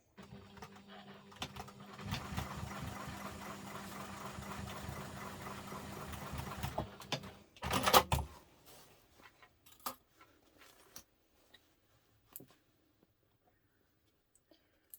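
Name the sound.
sewing machine stitching a messenger bag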